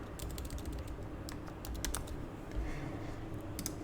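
Rapid typing on a computer keyboard, steady clusters of light clicks running throughout at close range with no voices.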